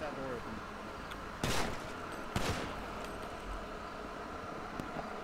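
Gunfire in a roleplay video game, two short bursts of shots from another group sounding at moderate distance over a steady background hum, with voices talking now and then.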